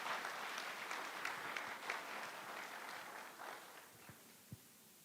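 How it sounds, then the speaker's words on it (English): Audience applause at a public engagement panel event, a moderate round of clapping from a gathered crowd that thins and fades toward the end, with a couple of isolated thumps after it. "She deserves another round of applause"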